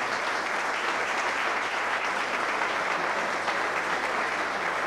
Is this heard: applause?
yes